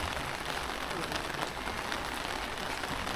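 Rain falls steadily on Miyajima island in Japan, a dense, even hiss of drops on surfaces that fills the moment without pause, close and fairly loud, with no voices.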